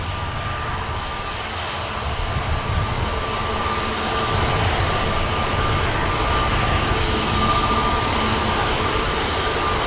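An airliner climbs away from the runway at Manchester Airport just after liftoff, a steady broadband roar of jet engines that swells slightly and holds, heard from a distance with a faint constant tone riding on top.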